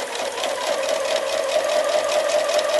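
A sewing machine stitches the bottom pieces of a fabric shopping bag together, a steady, continuous motor whir with an even pitch running for the whole stretch without pause.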